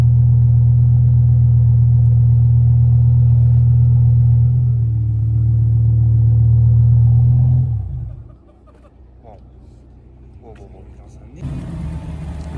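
A BMW M135i sedan at a supercar gathering in the Vercors gives a loud, deep, steady engine drone that cuts off sharply. A quieter stretch with faint sounds follows, then a brief rise in noise at the end.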